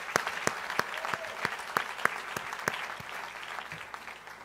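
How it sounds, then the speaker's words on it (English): A graduation ceremony crowd gives a steady round of applause, dense clapping filling the hall with a few louder claps standing out. "please give a round of applause to all of those that have supported you"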